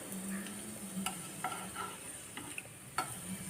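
Spices frying in oil in a pan for a Tamil puliyodharai spice powder: a quiet, steady sizzle with scattered faint ticks, crackles and light stirring clinks, with no talking.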